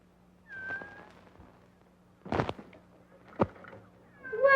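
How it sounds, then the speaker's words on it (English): A faint meow, then a couple of sharp thumps and another brief cry, ending in a higher mew; sparse and close, with quiet between sounds. "Well, meow yourself."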